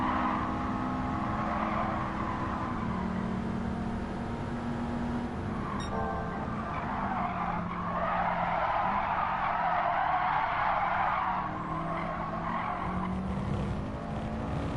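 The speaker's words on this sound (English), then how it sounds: "I'm loving the oversteer through that long hairpin." Race car in Gran Turismo 7 oversteering through a long hairpin in a 500 PP Clubman championship race, with steady engine drone and sustained tire skidding and squeal running loud throughout.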